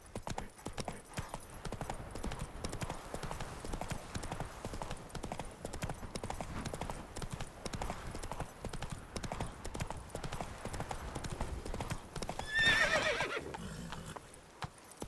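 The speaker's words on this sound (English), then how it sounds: "Giddy up." Horse hooves clip-clop at a steady gallop in Witcher 3 game audio, loud and close throughout, with a brief whinny-like burst near the end and no talk over it.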